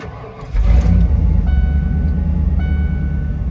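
A Ford F-350 Centurion truck engine with its muffler cut off starts and runs, a sudden loud low rumble that stays steady and close with no talking.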